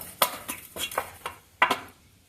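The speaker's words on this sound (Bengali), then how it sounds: "রেস্টে রাখা ডো থেকে এখন আমি লেচি কেটে নেব" A knife cuts portions from rested semolina kochuri dough, giving about half a dozen sharp, close taps and clinks against a hard surface.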